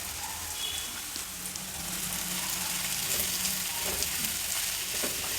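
Fenugreek leaves fry in hot oil, giving a steady, soft crackling sizzle with no talk over it.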